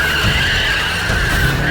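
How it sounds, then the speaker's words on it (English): BMW 128ti with a 2-litre four-cylinder spinning its tires in a burnout, a loud, close, continuous screech of rubber over the engine's drone. "Burnout time."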